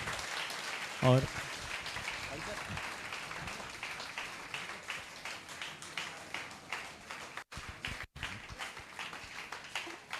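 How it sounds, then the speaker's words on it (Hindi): Audience at a seminar for civil service toppers claps for the dignitaries, a fairly soft, sustained patter of hands running throughout with a brief voice near the start. "एक बार जोरदार तालियां हमारे डिग्निटरीज के लिए"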